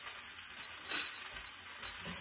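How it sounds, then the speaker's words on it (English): Brussels sprouts crisping in a pan on the stove give off a quiet, steady sizzle, with a soft scrape as a spoon stirs them. "So go ahead and grab a spoon and then stir it up."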